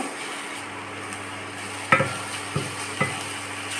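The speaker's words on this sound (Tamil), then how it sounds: "நல்லா மிக்ஸ் பண்ணிவிட்டு" Spice powder being stirred and mixed in a pan over a low sizzle, with a few distinct scraping and clinking strokes of the spoon against the pan, alone without talk.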